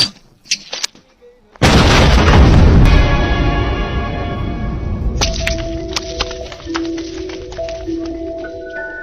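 A sudden loud blast followed by a long crackling, popping rumble that fades slowly, with scattered sharp pops and a faint tone near the end.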